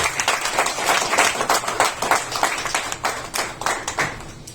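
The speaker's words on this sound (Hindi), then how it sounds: "उनके लिए एक बार जोरदार तालियां बजाएं।" A live audience claps loudly and steadily at a seminar on becoming an MDRT insurance agent, dense overlapping hand claps filling the room without pause.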